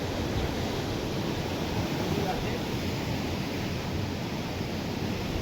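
A waterfall near the Vashistha temple in Meghalaya roars as a steady, dense, broad rush of water that stays constant and fairly loud throughout, with no clear voices over it.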